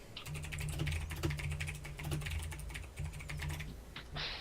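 Rapid typing on a computer keyboard, close and clear, with a steady run of key clicks over a low hum, pausing briefly before ending.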